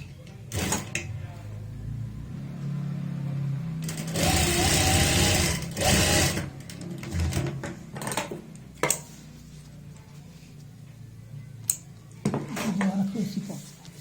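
Sewing machine stitching a saree in quick bursts, a sustained whirring run in the middle between shorter stitches, with fabric handling clatter and a voice talking throughout.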